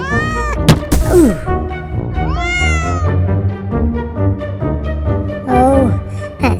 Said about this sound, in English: Oh, that silly cat.